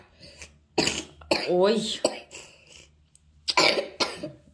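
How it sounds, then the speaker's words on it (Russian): A young girl coughs in several harsh bursts at bedtime, close and loud, with an adult's short exclamation in between. "Мне очень не нравится ее кашель."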